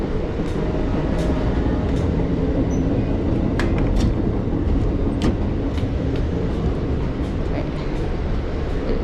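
A passenger train car on a long rail trip rumbles along with a steady low roar, with occasional clicks and rattles from the carriage, and no talking.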